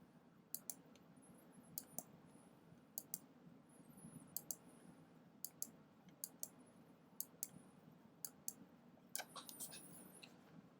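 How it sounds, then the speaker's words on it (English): Computer mouse clicking while dragging around the outside edge of a drawing in Adobe Illustrator: faint, crisp clicks come roughly once a second, sometimes in quick pairs, over a low, steady room hum. "just clicking, dragging around the outside edge"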